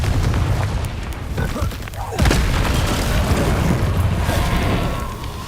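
A Confringo blasting spell explodes in Hogwarts Legacy, a loud sustained boom with a dense rumbling roar and a fresh burst about two seconds in, set amid ongoing spell-combat noise.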